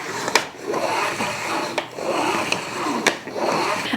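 A salad spinner whirls rinsed greens dry with a steady rushing whir, punctuated by a few sharp clicks from the spinning mechanism, close and alone with no talk.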